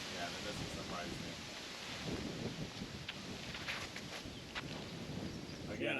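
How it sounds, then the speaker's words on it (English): Strong wind roars steadily and loudly into an outdoor microphone at a toboggan course, a constant rushing buffet with faint rustling and no pauses. "I know it's a little loud, but like I said before, it is very windy."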